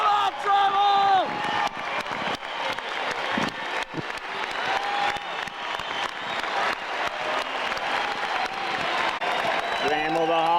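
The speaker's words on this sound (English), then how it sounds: "Listen to the crowd." Stadium crowd at a baseball game cheers and applauds as Alan Trammell comes to bat with a runner on base, a dense continuous roar of clapping, shouts and whoops filling the space, with voices calling out over it.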